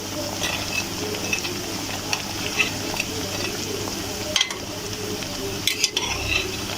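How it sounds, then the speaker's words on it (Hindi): Fried gram flour and egg pakoras lifted out of hot frying oil, with steady sizzling underneath and occasional scrapes and clinks of a utensil against the pan. "फ्राई हो गया है, अब इनको निकालते हैं।"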